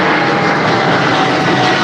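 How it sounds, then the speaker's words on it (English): A propeller airplane drones loudly and steadily overhead, a continuous close engine roar with no talking. "This is the airplane's coming at me again."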